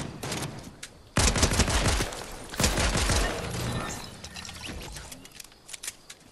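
Video game gunfire from a firefight with an enemy shooting nearby: bursts of rapid shots come in loud clusters with the loudest two volleys in the middle, with fainter crackling shots trailing off under game ambience.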